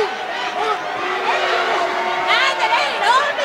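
A pro wrestling arena crowd boos Shinobu Kandori during a Hotta versus Kandori match, a swelling roar of jeers and whistles under a commentator's voice.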